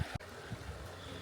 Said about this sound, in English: Beautiful flowing stream, and we've camped right there.